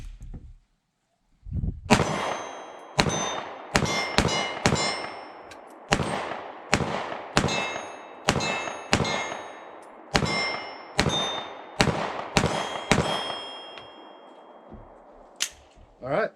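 A Sig P365-XMACRO pistol fires a rapid string of about fifteen shots at steel targets 15 to 20 yards away, each sharp report followed by a ringing metallic clang, outdoors.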